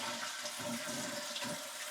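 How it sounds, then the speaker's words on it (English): A household toilet flushing after its flapper has been replaced, a close, continuous rushing gurgle of water draining through the bowl with no one talking. "Then we're gonna go ahead and flush it and make sure it flushed okay."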